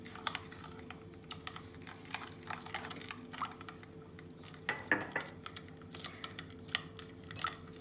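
Egg being stirred into melted butter and other donut dough ingredients in a bowl, heard as a run of light, irregular clinks and taps of utensil against the bowl, close up and fairly quiet, with no talking.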